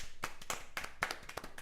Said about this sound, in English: Everybody, round of applause for Bruno.